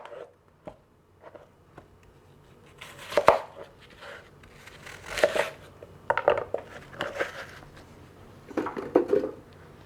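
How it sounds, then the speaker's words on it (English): Two red apples being cored with an apple corer produce a run of crisp, crunchy cutting bursts, sparse and light at first, then louder clustered crunches at close range with quiet gaps between. "I've got this handy dandy corer I absolutely love. It makes it so easy to get your core out."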